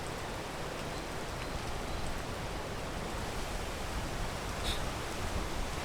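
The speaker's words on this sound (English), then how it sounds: "Also, you might have not noticed, but it's raining," Steady rain falls near a waterfall outdoors, a dense even hiss of drops that holds at the same level throughout, with no voices.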